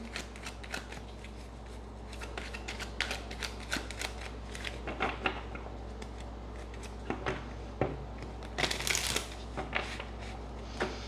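Tarot cards are shuffled by hand, close and fairly quiet, with a steady patter of crisp riffles and slaps in short irregular bursts and no talking.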